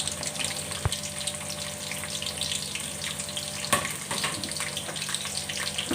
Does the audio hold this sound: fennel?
yes